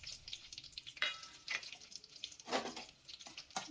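Garlic and curry leaves fry in hot oil in a pan, giving a faint, steady sizzle and crackle with a few sharper spits and pops.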